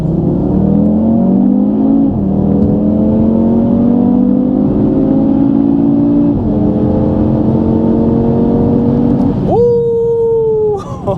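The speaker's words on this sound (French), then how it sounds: "juste pour écouter la mélodie, la mélodie du 5 cylindres" Audi TT RS Iconic Edition five-cylinder engine accelerating hard through the gears, a loud, close, rising howl broken by quick shift dips, then a final high-revving surge before easing off.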